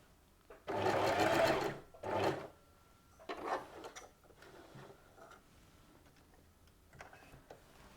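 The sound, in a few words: sewing machine stitching around corners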